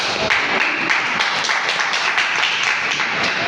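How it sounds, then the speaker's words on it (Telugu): Audience applause at a Safeshop bronze leader recognition event, a crowd clapping steadily and fairly loudly close by, with scattered sharper claps standing out. "చప్పట్లు"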